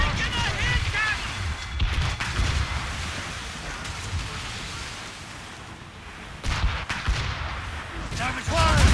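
Ship cannons fire volleys during a naval battle in the video game Assassin's Creed Rogue, heavy booms and gunfire bursts rolling across the scene, loud at the start and end, with shouted voices between.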